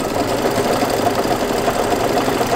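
A multi-needle embroidery machine stitches out a quilting design, giving a steady, rapid mechanical hum and needle chatter that runs evenly and close throughout, with no talking.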